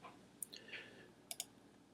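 A computer mouse clicks on an on-screen icon during a test tutorial, with a few faint, sharp clicks spaced apart in a quiet room.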